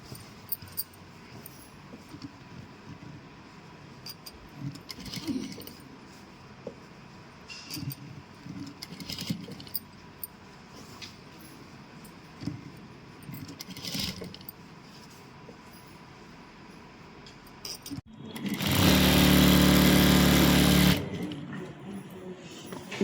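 Sewing machine running a double stitch on chudidar pants, a steady loud whirring burst of about three seconds near the end, after a stretch of quiet handling clicks and faint room noise.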